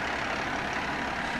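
A Seagrave fire truck's heavy diesel engine rumbles steadily at a fire muster parade, a loud, continuous low drone with broad road noise and no speech.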